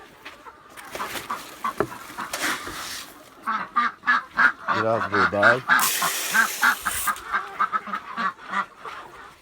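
Ducks, chickens and geese honk, quack and cluck loudly at close range while being fed at a poultry farm, with someone speaking Turkish over the birds.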